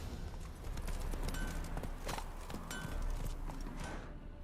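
Horse hooves clip-clop at a steady riding pace in The Witcher 3, repeated thuds over a dense ambient game background, fading out at the end.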